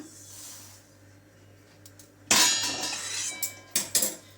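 Dry-roasted rice and green gram are tipped onto a plate in a sharp rattling pour, followed by a few separate clinks and scrapes of grains and utensil on the plate.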